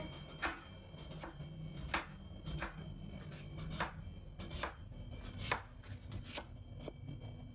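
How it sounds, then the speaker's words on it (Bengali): A knife chops medium-sized potatoes, already thinly sliced, into fine pieces on a board, giving about a dozen crisp, evenly spaced thuds at a steady unhurried rhythm, close and moderately quiet, with no talking. "তো আমি এখন করলার জন্য এই আলুগুলো কুচিয়ে নেব সুন্দরভাবে।"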